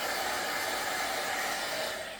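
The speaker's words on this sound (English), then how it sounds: "like I have a heat gun here, so you can also use a heat gun" A heat gun blows hot air onto tape, a steady loud broadband whoosh that holds evenly for about two seconds with no voices.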